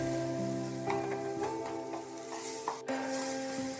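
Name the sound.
capsicum and bell peppers stirred and sizzling in melted butter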